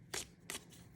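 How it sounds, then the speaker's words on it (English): Oracle cards being shuffled by hand in two quick riffling bursts, close and fairly soft, with a quiet pause between them and no talk. "And I'm shuffling my oracle cards"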